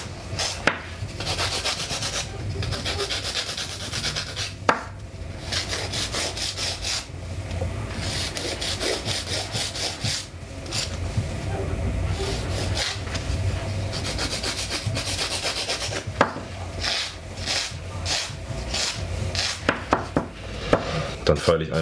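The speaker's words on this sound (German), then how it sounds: "Dann feile ich einfach nochmal auf dem Nagel ein wenig, um so kleine Unebenheiten wegzubügeln." Steady rhythmic scraping of a nail file worked back and forth over a gel or acrylic nail to smooth small bumps, close and continuous with faint background hum and no talk.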